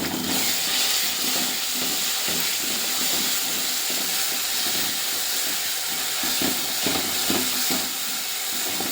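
Onion, spice, cumin and fenugreek paste frying in hot oil for a fish curry, a steady loud hiss and sizzle running throughout with no talk.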